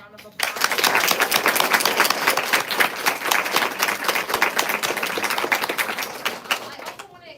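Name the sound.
audience applause for the panelists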